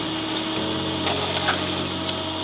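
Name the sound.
drilling out a hidden rivet on a BMW X5 chassis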